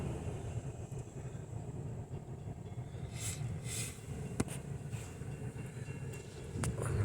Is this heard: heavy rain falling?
no